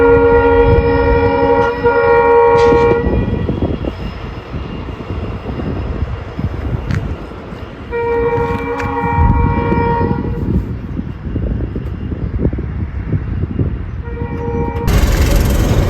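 Train passing a railway crossing, a continuous loud rumble and clatter of wagons with repeated long horn blasts sounding near and loud over the rolling noise.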